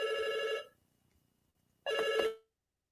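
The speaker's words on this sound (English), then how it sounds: "that bougie ass ringtone" A phone ringtone rings in two bursts, a bright electronic melodic ring, then a pause of about a second, then a second shorter burst, close and clear with no talk over it.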